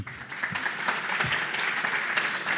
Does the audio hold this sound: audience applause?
yes